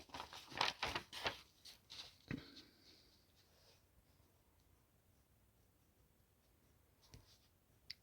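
Chalk or marker strokes on a board while an equation is written during a maths lecture: a quick cluster of scratchy taps and strokes, then a quiet pause and a couple of faint final marks.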